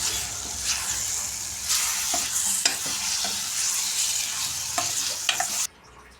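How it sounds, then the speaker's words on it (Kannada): Egg biryani is stirred in a hot pan, giving a continuous sizzle with scraping strokes and a few sharp utensil knocks, close and loud, ending abruptly in near silence. "ಈ ಥರ ನಿಧಾನಕ್ಕೆ ತಿರ್ಸ್ಕೊಳ್ಳೋಣ"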